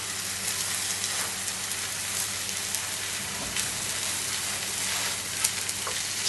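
Steady, crackling sizzle of pork frying in a large hot paella pan, close and continuous, with occasional sharper pops; no talking.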